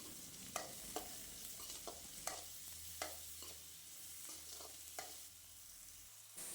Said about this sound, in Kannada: 1 ಕಪ್ ಈರುಳ್ಳಿ ಹಾಕಿ ಫ್ರೈ ಮಾಡುವ